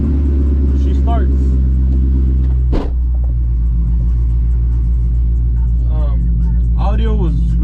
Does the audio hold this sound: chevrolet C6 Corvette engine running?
yes